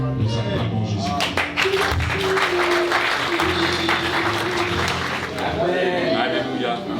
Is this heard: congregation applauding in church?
yes